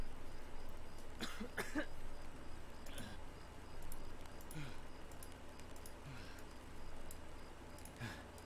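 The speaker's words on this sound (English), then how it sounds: "I'm coughing." A character in the survival shooter Escape from Tarkov coughs while badly wounded and dying. A couple of short, faint coughs come early, followed by a quiet, muffled ambience with scattered small sounds.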